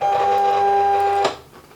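A cutting machine advancing material through its rollers, a steady, close motor whir with a tonal whine that runs evenly for over a second, then stops abruptly and leaves only faint room noise.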